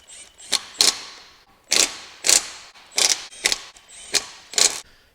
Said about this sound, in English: My impact wrench is on a pretty low setting, so I can just go right in with it.